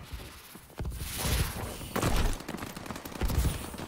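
Bursts of AK-12 rifle fire in a shooter video game, several rapid volleys with thumps in between, fairly close and loud.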